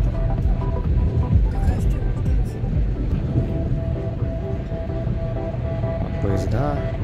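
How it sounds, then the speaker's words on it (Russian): A train rumbles past near Vykhino on the approach to Moscow, a steady low throbbing roar with rattling and hum that holds for several seconds and is heard from on board or close by. "Поезда."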